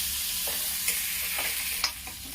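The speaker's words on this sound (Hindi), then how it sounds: "प्याज को डीप ब्राउन नहीं करना है, केवल थोड़ा सौते करना है।" Onions sauté lightly in a pan, a steady close sizzle broken by a few sharp stirring scrapes and clinks.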